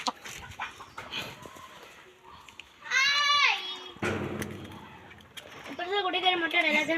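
Hens cluck and call from a crowded nesting spot as they wait their turn to lay eggs, with short harmonic squawks rising over softer background chatter, louder near the middle and end.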